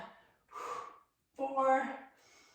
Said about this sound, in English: breathing it out